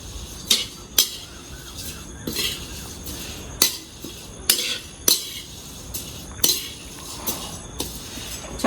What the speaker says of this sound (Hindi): चलाते रहना पड़ेगा वरना लग जाएंगे नीचे और जल जाएंगे सारे पेड़